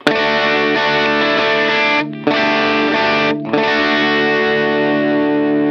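A distorted electric guitar runs through a Line 6 POD Go compressor at a 60% blend, three strummed chords separated by short gaps, each attack a little sharper before sustaining loudly, no talking.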